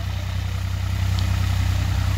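Massey Ferguson 245 DI tractor runs at a steady low diesel throb during field tilling, a loud, close, even rumble with no change in pace and no talk.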